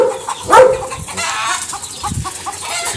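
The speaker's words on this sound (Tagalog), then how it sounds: "Yung mga manok natin, takbo kayo" Chickens in a yard clucking and squawking, with one louder cluck near the start and softer scattered clucks after, fairly close over a quiet outdoor background.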